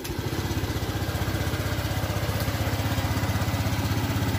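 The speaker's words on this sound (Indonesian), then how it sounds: "Kunci kontak on, langsung kita starter saja." Honda Scoopy fi scooter engine running steadily after being fitted with a new ignition coil, a close, loud, even putter with a fast regular pulse and no talking.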